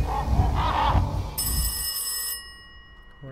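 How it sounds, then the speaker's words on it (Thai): A telephone bell rings in the horror video game Rise Of Insanity, a bright metallic ring lasting about a second after low rumbling game ambience, then cutting to near silence. "โทรศัพท์ดัง"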